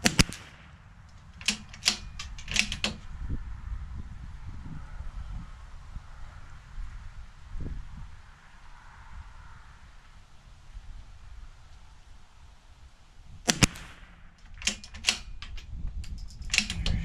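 Gunshots at an outdoor shooting range: a quick cluster of sharp, loud cracks at the start, then a long stretch of wind and low handling noise, then another burst of rapid shots near the end.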